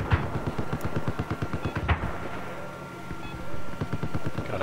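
Light machine gun fire in the Battlefield 4 game, on the Golmud Railway map, in steady rapid bursts of evenly spaced shots, loud and close, with a brief pause near the middle and some distant battle noise.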